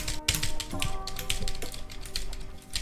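Quick, irregular clacking of keys on a cheap 2-euro computer keyboard during a Fortnite game, close and crisp, in bursts of rapid presses.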